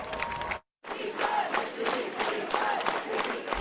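A crowd of about 1,000 people marches through Seattle's Central District at a Juneteenth rally, with steady loud cheering and chanting voices that cut out briefly near the start.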